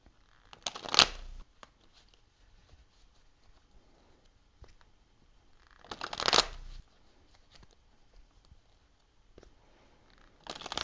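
A tarot deck is shuffled in two short, crisp riffling bursts several seconds apart, and a third begins at the end. Only faint handling noises fill the quiet gaps, and no one speaks.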